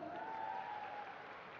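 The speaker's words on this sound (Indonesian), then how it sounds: "Tepuk tangan dulu dong." A congregation at an Islamic religious talk applauds in a steady burst of clapping, with a brief voice tone rising over it.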